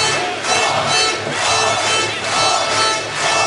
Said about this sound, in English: You can hear them chanting Norby again.